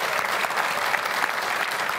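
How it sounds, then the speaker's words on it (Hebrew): Studio audience clapping on a late-night sports talk show, a dense, steady burst of applause held at even loudness for about two seconds with no talk over it. "כפיים לחבר'ה שלי"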